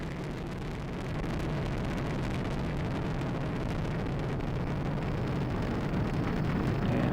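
An Atlas V rocket engine roars at full thrust during ascent, a steady, broad rumbling wash heard from a distance, fairly faint and unbroken throughout.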